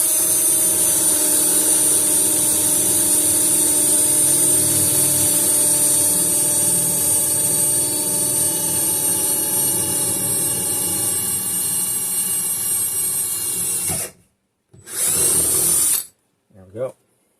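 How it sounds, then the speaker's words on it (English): Power drill boring a half-inch hole during installation of a RainFresh two-filter drinking water system, a loud steady whine held close for about fourteen seconds, then cutting off and briefly revving twice. "So just have to drill a 1/2-inch hole per the instructions right through here."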